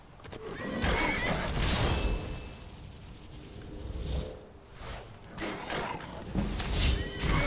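A horse in the Skyrim video game whinnies loudly in several drawn-out calls over a continuous wash of game ambience and combat noise.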